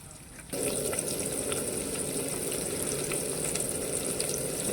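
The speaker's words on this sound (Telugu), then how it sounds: "ఈ ఉల్లిపాయ బ్రౌన్ కలర్ వచ్చేంతవరకు మనం దీన్ని వేపుకోవాలి" Onion drops into hot tempering oil already holding cumin, mustard seeds and lentils, bursting into a loud, sustained sizzle after a brief quiet start and crackling steadily nearby.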